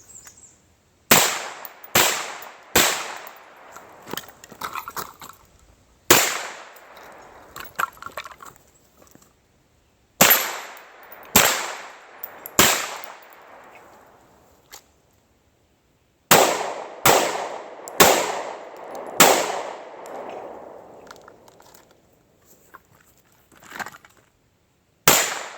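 Gunshots ringing off steel auto popper targets at close range, a dozen sharp cracks in spaced bursts of two to four, each followed by a short metallic ring, with quiet gaps between strings and no talk.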